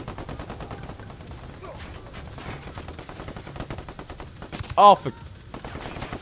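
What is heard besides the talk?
machine gun turret firing, video game Ghost Recon Wildlands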